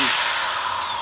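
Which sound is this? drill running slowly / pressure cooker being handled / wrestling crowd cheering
drill running slowly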